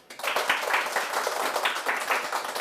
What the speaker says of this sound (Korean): 청산유수 유태영 기획자님의 강연을 박수로 청해 보겠습니다